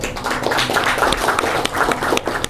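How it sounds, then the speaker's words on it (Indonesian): Lively applause for Yogyakarta from an audience at a Javanese spiritual talk, close crisp clapping of many hands at a brisk, uneven pace throughout the short burst. "Tepuk tangan untuk Yogyakarta."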